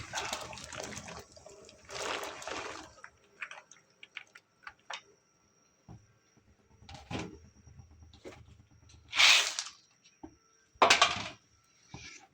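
Mixed vegetables for a Bengali vegetable ghonto tipped into hot salted water with turmeric in a pot, heard as a few short, quiet splashing pours separated by faint clinks, with no talking.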